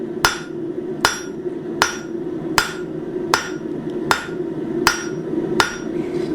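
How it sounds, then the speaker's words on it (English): Cross peen hammer striking hot metal at the center of an anvil during blacksmithing work on a leaf, eight sharp ringing blows at a steady rhythm over a low background roar, close and loud. "We can use this cross peen hammer to kind of shove the material in horizontal instead of vertical directions"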